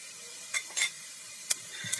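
Onion and spices fry in a pan with a soft steady sizzle, broken by a few quick scraping stirs and light clinks of a utensil against the pan.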